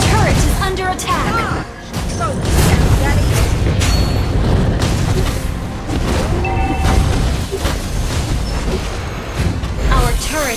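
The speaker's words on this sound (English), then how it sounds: "Turret has been destroyed." Destruction of a turret in the Mobile Legends video game, heavy booming crashes and rumbling impacts over a busy battle mix, with an announcer-style voice speaking over the loud, sustained din.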